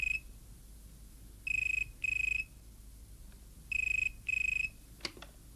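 A telephone rings in two pairs of electronic trills, separated by a short pause, fairly near in an otherwise quiet room.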